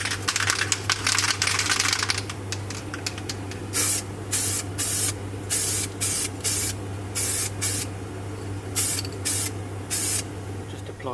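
Short bursts of aerosol spray primer hit a classic Mini wheel in a fast, repeating rhythm of hissing blasts, with a steady low mechanical hum running underneath and no talk.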